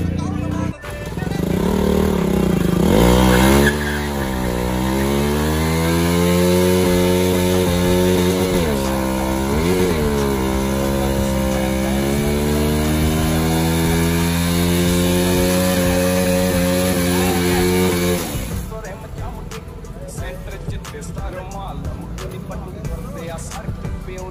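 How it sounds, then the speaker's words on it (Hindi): A motorcycle doing a tyre burnout: the engine revs hard and holds a loud, rising and falling roar for most of the stretch, then drops away to rougher idling, with voices talking over it. "तो गाइस देख लिया आपने बर्न आउट, क्या मस्त वाला बर्न आउट मारा"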